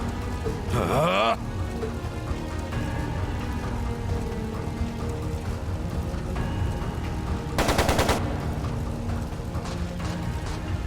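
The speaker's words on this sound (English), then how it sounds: "It sounded like a machine gun." Machine-gun fire in the game Trails of Cold Steel 2 rattles out in two short, loud bursts amid game music and effects, the second burst sharper and denser.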